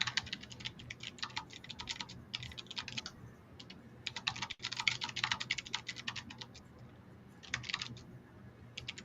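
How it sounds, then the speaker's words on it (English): Fast typing on a computer keyboard, close and fairly quiet, with bursts of rapid key clicks broken by short pauses over a soft background hum, and no talking. "I am typing and doing some research."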